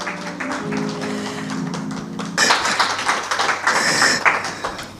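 A church congregation applauds the servants of God, the clapping starting abruptly partway through as sharp, dense, close hand claps replacing the calmer sound before it.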